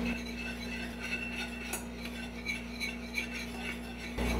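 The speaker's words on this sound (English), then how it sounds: "we want to cook this, stirring constantly until it comes up to a boil" Lemon filling stirred constantly in a saucepan on the stove, with faint, repeated scraping and light clinks of a utensil against the pan over a low steady hum.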